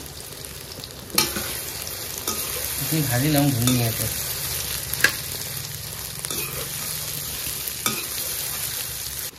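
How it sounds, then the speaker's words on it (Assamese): A soybean and egg mixture fries in hot oil, a steady close sizzle with a few sharp clatters of stirring, while a person speaks briefly over the cooking. "আমাৰ তেল গৰম হৈ গ'ল এতিয়া প্ৰথমতে আমি যিখিনি চয়াবিন একদম ডিমখতি মিলাই থৈ দিছিলোঁ এইখিনি এতিয়া আমি ধুনীয়াকৈ ভাজি ল'ম"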